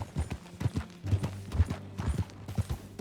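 Horse hooves clip-clop at a trot while riding in the video game Red Dead Redemption 2, an even, close rhythm of dull thuds with faint tack jingling beneath.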